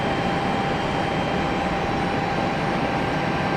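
A Southwest Airlines Boeing 737-700 arriving at Raleigh-Durham airport, flying downwind on approach from Houston, makes a steady, dense broadband jet roar that holds at an even loudness throughout, with no voices.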